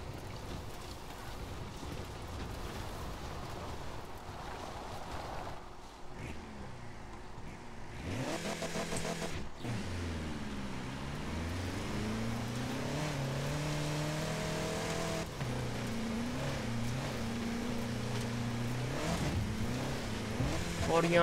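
A 2016 Toyota Land Cruiser's engine labors uphill in Forza Horizon 4, a steady motor drone that rises and falls as the SUV climbs, with rain-like noise and someone talking over it.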